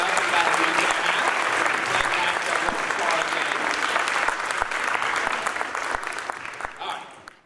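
School band concert audience of families gives the 7th and 8th grade players a long, steady round of applause, dense clapping that gradually thins and fades out at the end.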